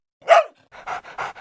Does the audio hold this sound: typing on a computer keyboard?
no